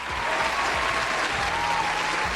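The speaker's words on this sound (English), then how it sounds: "Give her a round of applause." A short, dense round of applause rolls on at steady loudness with a faint voice beneath.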